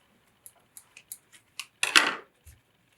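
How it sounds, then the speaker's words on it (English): Scissors snip and click several times up close while cutting open a balloon, then make one longer, rasping cut before a final soft tap. "So I'll insert the scissors and try to cut the balloon."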